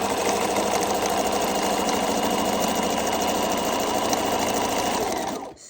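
A sewing machine runs a fast, steady straight stitch for a bar tack on a hand towel, buzzing loud and close throughout and then stopping abruptly at the end.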